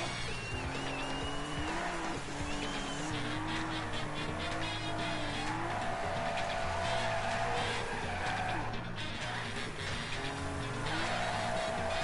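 A car drifts through a track in the video game Table Top Racing with continuous tire squeal over a steady revving engine, loud and close, sliding for the full length without a break.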